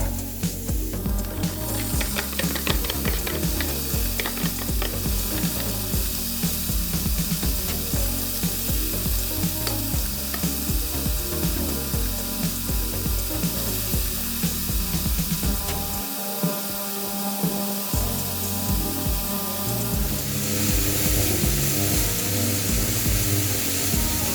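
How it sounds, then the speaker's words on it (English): Bean sprouts fry in a pan beside other chow mein ingredients with chicken and vermicelli, giving a loud, steady, dense sizzle that runs without pause the whole time, with occasional stirring scrapes and no talking. "we can leave the outside of the pan to use to fry the bean sprouts"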